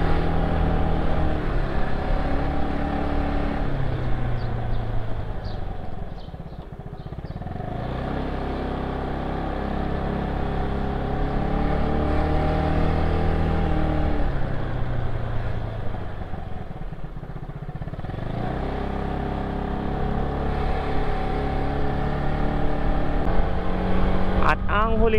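A motorcycle rides steadily at about 50 km/h, caught on a GoPro Hero 8 with a Racing Boy mic. The engine drones loud and continuous with wind rush, its pitch dipping briefly twice as the rider eases off.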